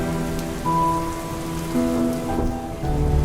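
Steady rain falls outside a window, a continuous dense patter at moderate loudness running throughout, with a low tonal hum layered underneath.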